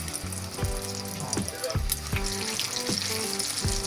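Food frying in oil in a pan, a second batch cooked for home-style Chinese fried rice: a steady, close, loud sizzle with regular low thumps and scrapes from stirring throughout.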